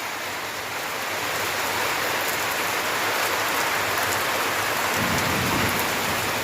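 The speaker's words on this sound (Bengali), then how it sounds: "গুড়ুম গুড়ুম বৃষ্টি, বহুদিন গরমের পর বৃষ্টি পেলাম।" Steady heavy rain pours down without pause, with a low rumble of thunder rolling underneath toward the end.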